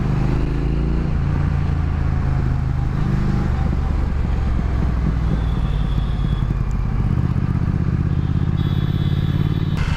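A powerful motorcycle pulls hard in third gear on a road ride, its engine droning loudly and steadily with wind and road clatter throughout.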